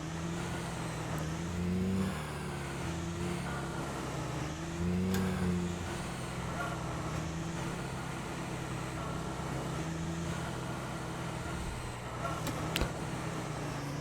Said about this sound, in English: we'll just kind of let the vehicle cruise itself down there and apply the brakes as needed